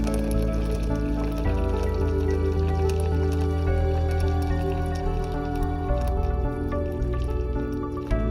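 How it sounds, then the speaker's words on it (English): Hot water from a kettle is poured into a pot holding previously cooked rice to make pork congee, a continuous close splashing, gurgling pour with a shifting pitch as the pot fills. "I put the previously cooked rice into the pot and then add water. This is hot water from my water kettle."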